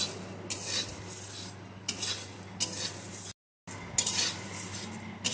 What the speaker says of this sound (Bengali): একটু নাড়িয়ে নাড়িয়ে ভেজে নেব তাহলে মুড়িটা মুচমুচে হয়ে যাবে